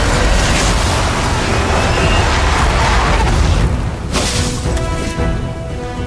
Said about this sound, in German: der Sprengkristall in Kombination mit elektrischer Energie explodieren